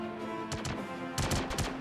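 Gunfire in the video game Star Citizen during crew training, two quick bursts of rapid shots over a steady engine-like hum, fairly faint.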